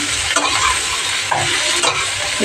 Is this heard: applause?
no